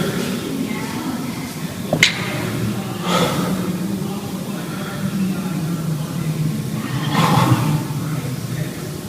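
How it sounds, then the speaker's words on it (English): During a barbell workout, a person near the microphone breathes out hard in a few forceful, gasping exhalations spaced several seconds apart over a low steady background. "Breathing out on exertion."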